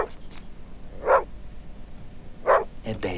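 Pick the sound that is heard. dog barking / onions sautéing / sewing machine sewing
dog barking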